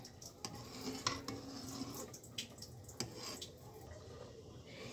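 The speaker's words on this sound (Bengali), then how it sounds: "এই দুধটাকে আমি নেড়ে চেড়ে কিছুক্ষণ জ্বালিয়ে নেব।" Milk heating in a pot for masala tea being stirred, soft scrapes and clinks of a spoon against the pot over a low steady simmer, fairly quiet and close.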